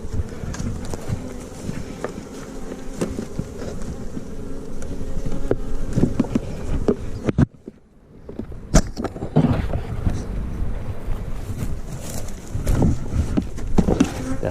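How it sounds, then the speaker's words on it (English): Honeybees buzz densely around a hive being smoked during winter colony preparation, a continuous close droning hum mixed with scraping and handling knocks, briefly dropping out for a moment before resuming at full strength. "The bees won't go down."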